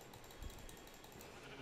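A sheep bleats in a Minecraft-style video game, a single brief low call sounding close over steady background game ambience.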